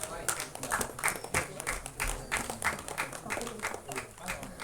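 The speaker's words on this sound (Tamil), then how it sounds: "ஒரு பலத்த கைத்தட்டல் கொடுக்கலாம்" Scattered applause from an audience at an album song screening festival, uneven rhythmic claps pulsing at moderate distance, fairly soft, with some talk underneath.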